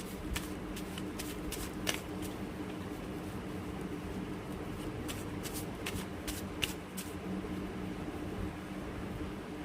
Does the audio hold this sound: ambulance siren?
no